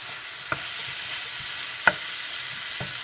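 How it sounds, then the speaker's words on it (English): A zucchini stir fry gets stirred in a pan over steady low frying noise. A few sharp utensil clinks punctuate it, the clearest one near the middle. "Just keep stirring and the spices will get mixed."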